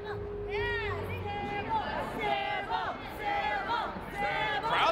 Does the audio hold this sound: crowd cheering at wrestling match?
yes